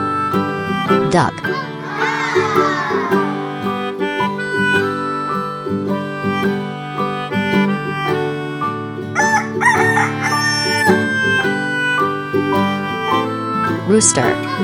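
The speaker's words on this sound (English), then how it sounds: "Rooster." Rooster crowing, one loud drawn-out cock-a-doodle-doo near the start with a later shorter call, set against continuous background music in a children's animal-sounds lesson.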